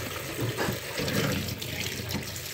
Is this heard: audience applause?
no